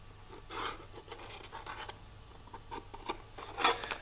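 A marker or scribe scratches and rubs across a vacuum-formed plastic case, short quiet strokes in an uneven series, close but faint, with no talk.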